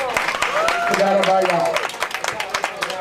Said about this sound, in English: Give Yahweh a clap offering.